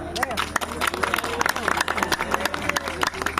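Audience clapping at a Sapi Sonok cattle contest in Pamekasan, Madura, with a dense patter of hands under a crowd murmur and a voice speaking.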